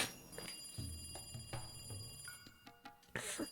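Telephone ringing in an anime visual novel, a sharp electronic ring repeating in quick bursts, fairly quiet, with no voices.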